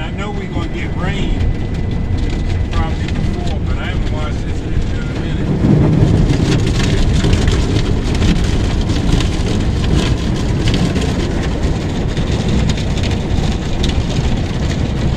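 Water sprays and drums hard against a car in a car wash in Waldorf, Maryland, a dense continuous hiss that swells louder midway and stays strong.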